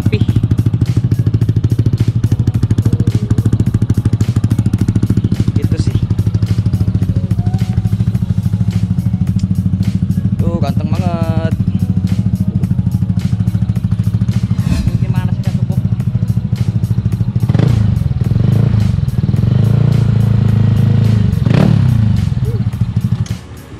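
A 2020 Kawasaki New ZX636 motorcycle idles loudly and close by with a steady low engine drone, occasional clatter and brief revs, while someone talks over it.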